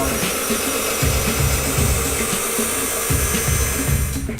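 A skate sharpening machine polishes a skate blade with a loud, continuous motor whir and grinding hum, pulsing rhythmically as the blade passes back and forth against the wheel.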